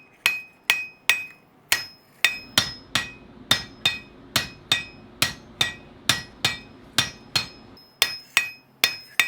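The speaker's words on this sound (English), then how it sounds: "every time I strike the hammer on the anvil, it bounces" A blacksmith's small hammer strikes metal laid on an anvil in a steady rhythm of about two dozen bright, ringing blows, each with a short metallic tail, close and loud with no talking.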